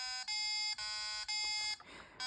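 Start beeps from the 1980 Pocket Simon handheld electronic game, a series of bright, buzzy square-wave tones in quick sequence with a short noisy break before a final tone, loud and up close.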